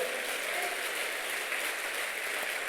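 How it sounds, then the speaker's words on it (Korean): Steady, dense applause fills a church revival service, a broad continuous clapping from the congregation that holds evenly throughout without pause. "우리 크게 하나님께 영광의 박수합니다"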